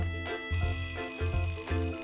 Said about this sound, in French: ça c'est les sonneries qu'on entend